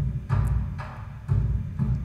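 Huge low drums struck in a steady, slow beat, each resonant boom about half a second apart, loud and alone.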